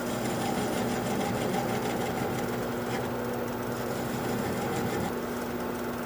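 Wood lathe spinning a bowl blank at slow speed, around 400 RPM, with a gouge working the wood: a steady, continuous motor hum with a constant tone, close and loud, no talk.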